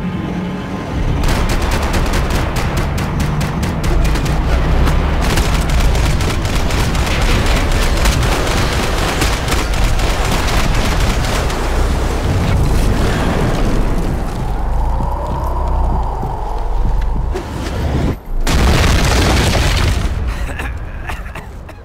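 Loud, sustained gunfire from the Max Payne 3 video game: dense automatic bursts and explosive booms fill the scene almost without pause, thinning briefly near the end before another heavy volley.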